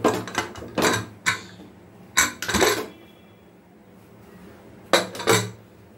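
A metal pressure cooker is opened after cooking rice with drumstick leaves, bringing clanks and clinks of the lid and pot in irregular bursts close by, with quiet gaps between.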